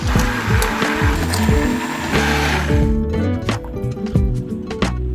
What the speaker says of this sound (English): Now I'm adding a bunch of olive oil and just immersion blending this into a beautiful bright green herb oil.